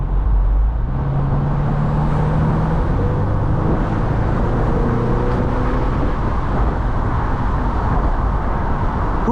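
A 2025 Ford Mustang, rear-wheel drive and in normal mode, drives along with a steady low engine and road rumble that stays loud and even throughout, with no talking.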